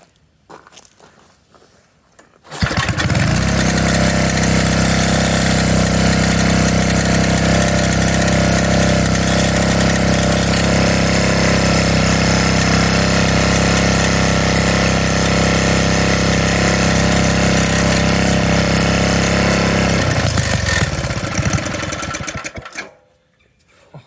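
An Atlas tiller engine fires up after a short pause and runs steadily at a loud, even drone for about twenty seconds before cutting out and dying away.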